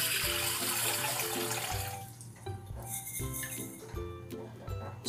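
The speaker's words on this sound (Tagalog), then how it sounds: "ngayon, lagyan natin ng tubig para mababad yung ating munggo." Water pours and splashes into a container of washed mung beans being set to soak, a continuous rushing flow that thins into lighter trickles and sloshing, with faint background talk.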